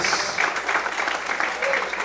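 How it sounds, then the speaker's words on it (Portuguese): A church congregation applauds during a worship service, a continuous dense wash of clapping mixed with voices calling out, steady and fairly loud throughout. "Desocupe a sua mão, aplauda o Senhor"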